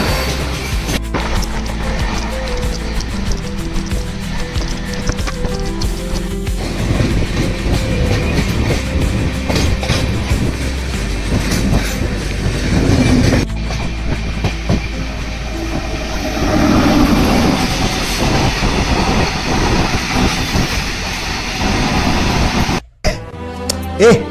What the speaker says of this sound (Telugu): సింహపూరి ట్రైన్